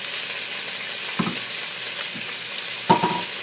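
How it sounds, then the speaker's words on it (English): Strawberries and bacon simmer on high heat in a pan, a steady close hiss of sizzling fat with a few soft clinks and stirring bumps, and no voices. "we're going to throw our strawberries in with the bacon and let that simmer on high heat"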